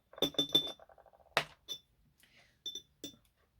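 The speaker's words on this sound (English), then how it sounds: "Let's give this a stir" A spoon stirs tea in a cup, giving a quick run of bright close clinks against the china followed by a few scattered taps, fairly quiet with no one talking.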